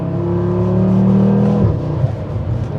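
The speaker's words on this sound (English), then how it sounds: "But when you're accelerating, you have just a really aggressive tone to it." An Audi RS3 with a valved aftermarket exhaust, valve open, accelerates close by with a deep, aggressive drone that rises steadily in pitch, then eases off near the end.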